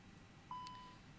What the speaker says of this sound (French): Avec les petites alarmes quand on allume l'avion